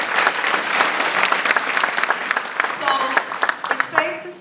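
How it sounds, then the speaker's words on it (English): An audience at a town hall event breaks into applause, a dense patter of clapping hands that stays loud and steady for a few seconds. "Let's give them a round of applause."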